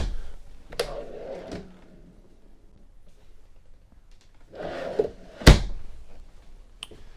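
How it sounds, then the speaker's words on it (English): Storage drawers rolling out inside a Winnebago Forza 38F RV, two soft sliding rumbles followed by a sharp thunk as one reaches its stop, with a lighter knock at the end in a quiet interior. "These are actually drawers that roll all the way out."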